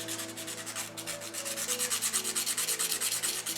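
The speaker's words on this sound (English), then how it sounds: "make sure that you got sandpaper for the step, and buff up the top" Sandpaper rubs back and forth over the top of a cross keychain in steady, rapid strokes, a close and fairly loud scratchy rhythm with no voices.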